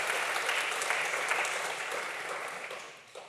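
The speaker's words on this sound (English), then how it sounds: "let's have a massive round of applause for our panel" An audience at a panel discussion on augmented reality, sport and gaming applauds, a dense, sustained clapping from many hands that fades slightly toward the end.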